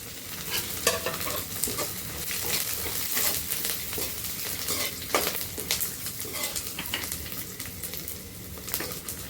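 Garlic and whole garam masala spices sizzle steadily in hot oil in a kadhai while a spoon scrapes and stirs, making repeated clinks through the crackling.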